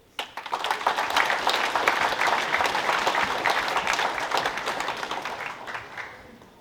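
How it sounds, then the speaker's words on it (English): School assembly audience applauding two students, a burst of many hands clapping that starts abruptly, holds steady and loud, then thins out toward the end. "Can we please give Brendan and Cole a round of applause?"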